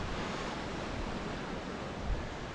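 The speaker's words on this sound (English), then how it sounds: "watch the waves hitting the rocks" Sea waves washing against rocks on a cloudy day at Palmanova, heard as a continuous soft rushing wash with a slightly brighter surge near the end; no one talks over it.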